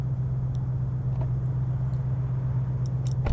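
A modified car with a steady low engine rumble, idling or pulling away at close range, with a few faint clicks and no talk.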